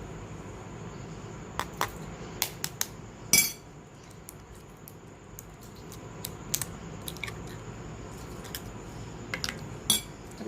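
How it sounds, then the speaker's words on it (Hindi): Chicken macaroni ingredients are mixed in a pan, with a utensil scraping and clinking against the metal in scattered sharp knocks over a low background hum. "अब इसको अच्छे से मिक्स कर लें।"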